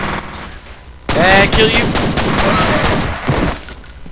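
Dual pistols fire in the video game Pointman's Mind as a loud, dense volley of quick shots lasting a few seconds, then trailing off. A brief voice speaks just before the shooting starts.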